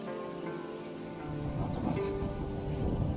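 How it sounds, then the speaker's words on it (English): Steady rain with a low rumble of thunder during a storm in the video game Assassin's Creed Odyssey, a continuous wash of downpour that swells slightly louder midway, with no voices. "Storm's coming in."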